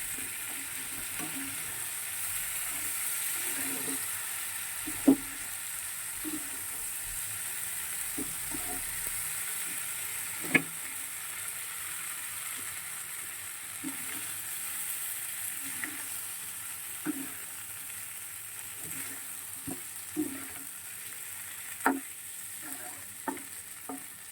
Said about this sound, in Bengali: ফুলকপি আলুটা আমি ভেজে নিয়েছি আর মশলাটা দিয়ে রেখে একেবারে গ্যাসটা একদম কম করে দিয়ে রেখেছিলাম। মশলাটা খুব ভালো হয়ে গেছে, ভালো করে কষিয়ে নিই